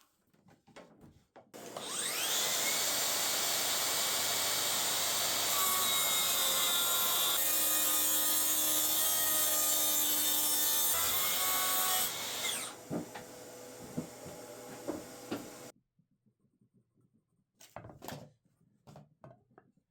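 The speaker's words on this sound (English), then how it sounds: "I cut to size the back part of the bookshelf with the track saw this time" A track saw rips through a wooden back panel for a bookshelf, a loud sustained whine lasting about ten seconds with the blade winding down, bracketed by handling clatter and bumps before and after.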